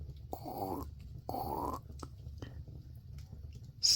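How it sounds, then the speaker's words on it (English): Dry fallen leaves crunching underfoot with each step, heard as two distinct close crunches followed by a few fainter crackles and rustles. "what they could hear as they walked was the leaves crunching."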